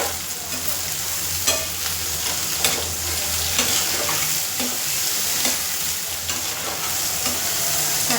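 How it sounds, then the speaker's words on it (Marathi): Onions sizzle and fry steadily in a pan with ginger-garlic paste for street-vendor-style butter pav bhaji, with occasional stirring scrapes and clinks over a continuous broadband hiss. "आता मस्त कांदे गुलाबी कलर होईपर्यंत तळून घ्यायचा मस्त"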